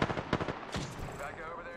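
Gunfire in a tactical video game: a few quick, loud shots in a short burst at the start, followed by a decaying blast and someone talking briefly.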